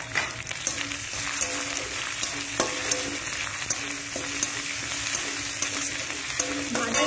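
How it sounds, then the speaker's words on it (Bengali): Chopped green chilli fries in a pan with a steady, bright sizzle and crackle, stirred now and then, close and continuous with no talking. "এটাকে একটু ভেজে নিতে হবে। কাঁচা লঙ্কা কুচি দিয়ে দিলাম।"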